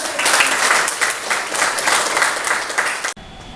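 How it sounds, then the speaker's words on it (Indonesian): A high school biology class in Indonesia claps together, a dense, even burst of many hands that holds steady for about three seconds and then cuts off abruptly. "tepuk tangan"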